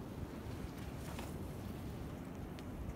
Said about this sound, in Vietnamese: Đây thì mọi người có thể nghe tiếng sóng biển,